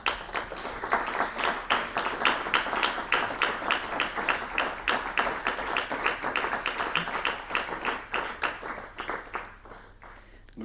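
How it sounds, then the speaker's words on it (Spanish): A church congregation applauds during a Spanish-language Sunday service, a dense, steady burst of many hands clapping that lasts about ten seconds before tapering off. "Dar un aplauso al Señor."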